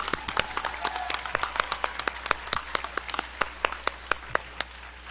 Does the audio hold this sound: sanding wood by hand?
no